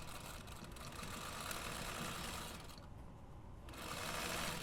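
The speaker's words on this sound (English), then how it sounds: "edges, the top and bottom, and we're going to sew those together" A sewing machine runs continuously while stitching a quarter-inch pocket seam on a road trip bag, a steady close whir with a brief dip in pitch midway.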